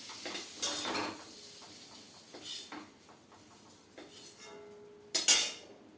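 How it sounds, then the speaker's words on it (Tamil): Baby potato poriyal is spooned from the pan into a serving dish: scattered scrapes and clinks of utensil on metal and crockery, with a louder sharp clatter near the end, moderately close, and no voices. "அடுப்பை ஆஃப் பண்ணிவிட்டு நம்ம சர்விங் டிஷ்ஷில் இதை எடுக்கணும்"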